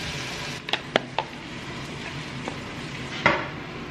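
Sausage stir fry sizzles softly in a pan, a low steady hiss broken by a few sharp clicks and taps of a utensil against the pan.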